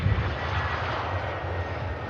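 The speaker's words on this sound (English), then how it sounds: "EasyJet about to touch down." A steady roar of jet engines as an easyJet A320-type airliner comes in to touch down at Manchester Airport, continuous and fairly loud with a broad rumbling hiss, no talking.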